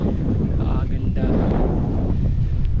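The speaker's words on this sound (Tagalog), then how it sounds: "Lakas ng hangin." Strong wind on a mountainside buffets the microphone in a constant low roar, with no breaks across the whole stretch.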